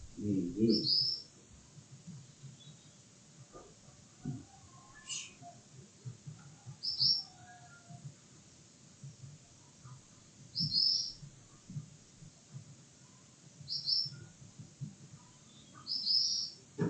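A pet bird gives short, bright chirps at steady intervals, several in a row, over low background noise and a few dull knocks indoors.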